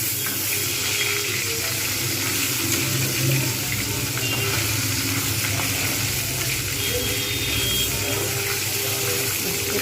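A piece of rui fish fries in oil for a black cumin curry, sizzling and bubbling steadily and loudly throughout with soft stirring noises.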